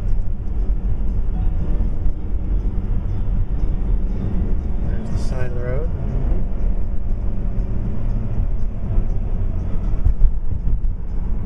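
A car drives along a road, giving a steady, loud road and engine rumble throughout, with a brief tonal whine partway through.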